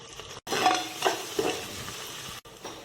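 Onions sauté in a pan for Rajasthani dal, a soft, steady sizzle with a few light stirring scrapes. Two brief dropouts break the sound, and no one speaks.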